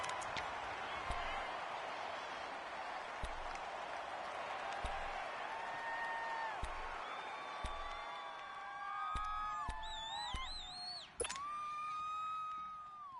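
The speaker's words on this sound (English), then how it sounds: "The crowd here in the Dome making things difficult." Loud, sustained crowd roar inside a domed stadium at an NFL game between the Falcons and Saints, a broad wash of noise with sharp thuds and whistle-like tones rising near the end.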